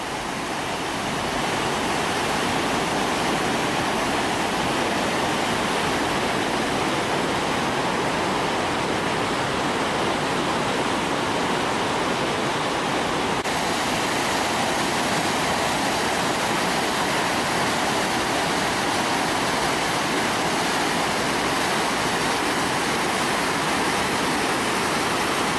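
The Rječina river runs high after heavy water, a loud, steady roar of rushing torrent that fills the whole scene without pause.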